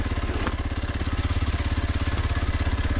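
A Kawasaki KLX 230 motorcycle runs in first gear, its single engine thumping in a fast, even low pulse that stays steady and fairly close throughout.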